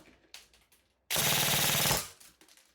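Airsoft gun fitted with a T238 brushless motor fires one rapid full-auto burst of about 19 rounds a second, a dense buzzing rattle lasting just under a second between quiet handling noises.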